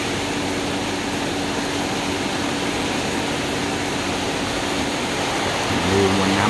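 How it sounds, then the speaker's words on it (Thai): Steady broadband rush of rainwater pouring out of a pipe during a storm, constant and fairly close, with a brief voice starting at the end. "น้ำไหลนะครับ"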